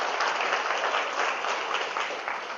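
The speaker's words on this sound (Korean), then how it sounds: "이 대목에서 박수를 한번 주시죠" A seminar audience applauds in a dense, steady burst of many clapping hands that sounds close and full, then tapers off slightly toward the end.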